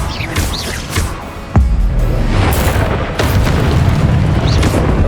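A Confringo spell detonates in Hogwarts Legacy with one sharp, heavy boom, followed by a rumbling blast tail and crackling magical whooshes from the surrounding combat.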